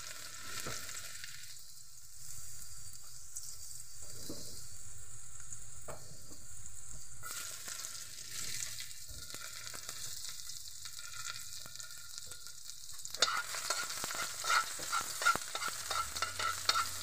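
Ampalaya (bitter gourd), mixed with string beans and shrimp paste, fries in a pan with a continuous close sizzle. Near the end the stirring picks up and brings a run of quick scrapes and clatters. No voices are heard.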